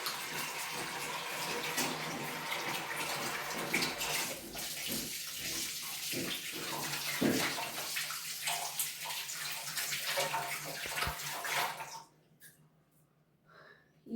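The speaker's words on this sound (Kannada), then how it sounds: "ಫಸ್ಟು ಹ್ಯಾಂಡ್ ವಾಶ್ ಮಾಡ್ಕೊಳ್ಳೋಣ." A kitchen tap runs steadily while hands are washed under it. The water splashes and gurgles close by, then shuts off near the end, leaving quiet.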